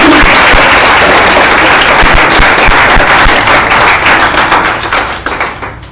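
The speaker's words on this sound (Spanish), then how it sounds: "Puedes dar un aplauso a Dios." A church congregation gives sustained applause, dense clapping heard close and loud, thinning out and fading toward the end.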